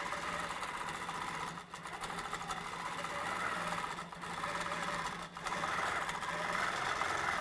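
A Q'nique 15R mid-arm quilting machine with stitch regulation stitches continuously, a steady close mechanical hum and rapid needle chatter with a few brief dips in speed, and no voices.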